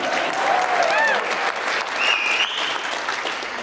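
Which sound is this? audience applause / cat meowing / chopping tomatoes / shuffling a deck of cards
audience applause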